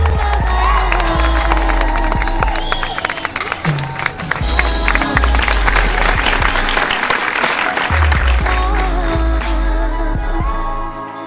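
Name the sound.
party crowd applauding and cheering for a couple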